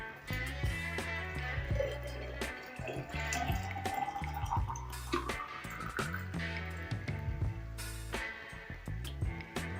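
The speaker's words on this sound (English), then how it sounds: "Then I'll go in some hot boiling water." Hot boiling water is poured over mango and sugar, a close, quiet stream with a pitch that rises steadily as the vessel fills, backed by drips and a rhythmic background beat.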